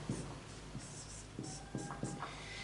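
Chalk or marker scratching on a classroom board as a teacher writes out a physics question, short strokes spaced with brief pauses, fairly quiet against a steady room hum.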